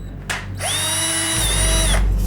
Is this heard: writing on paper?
no